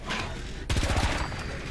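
Rapid gunfire in the video game Fallout 4, a short burst of loud, close shots in quick succession over steady game background noise.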